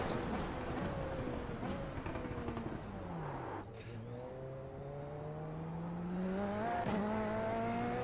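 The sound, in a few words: race car engine in iRacing video game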